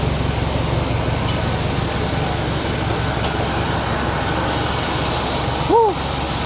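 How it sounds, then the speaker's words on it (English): A steady, loud broadband roar of aircraft engines fills the cabin throughout, with a brief rising chime near the end. "Finally, we're back on the plane."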